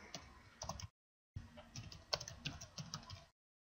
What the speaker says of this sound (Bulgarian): И си пишем името на канала.